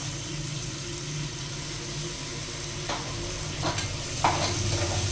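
Tomatoes, green chillies and coriander fry in a pressure cooker over ginger-garlic paste for mutton biryani, a steady low sizzle and hum with a few soft stirring scrapes and clinks near the end.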